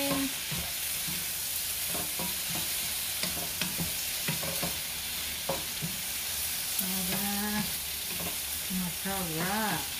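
Food frying in a pan is stirred with repeated scraping and clattering strokes over a steady close sizzle, with a few brief voiced sounds mixed in near the end.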